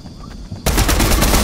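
Rapid automatic gunfire erupts suddenly in a Fortnite battle royale match, a loud continuous burst of shots following a quieter moment of game ambience.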